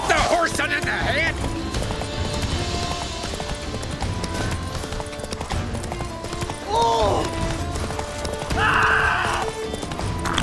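A horse gallops in The Witcher 3: Wild Hunt, its rapid clip-clop hoofbeats steady under battle shouts, with neighs and whinnies breaking through, while voices yell nearby.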